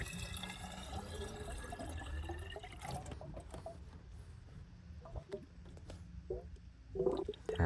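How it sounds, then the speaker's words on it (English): Steady trickling and gurgling of water being poured into a Mini Cooper's empty expansion tank, fairly quiet and continuous, with faint clinks toward the end. "get some water, just some water for now, fill this up"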